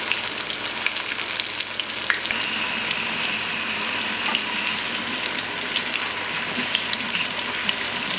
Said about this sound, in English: Hear that nice sizzling going on in there